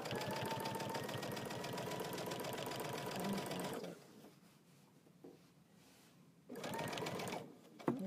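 A sewing machine fitted with an edge-joining foot topstitches machine binding on a quilt. It runs in a close, steady, fast whir for a few seconds, goes quiet, then starts again for a shorter burst.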